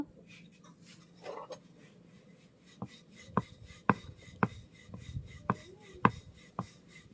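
A rolling pin working small balls of dough flat one at a time, giving a series of soft wooden knocks and thumps at an uneven, steady pace, close and fairly quiet.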